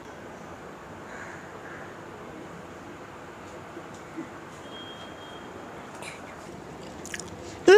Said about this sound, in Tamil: அதுக்கு முன்னாடி நான் இந்த புதினா சாதத்தை டேஸ்ட் பண்ண போகிறேன்